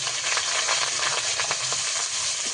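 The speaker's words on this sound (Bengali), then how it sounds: "পেঁয়াজ দিয়ে ভালোভাবে কিছুক্ষণ ভেজে নেব।" Onion paste frying in mustard oil over a kalonji tempering in a kadai gives a close, steady sizzle with scraping stir strokes and small crackling pops scattered throughout; nobody talks.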